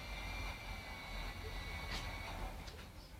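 An airplane engine drones at an airport in the video game GTA 5, a faint, steady roar with a low rumble and some higher hiss.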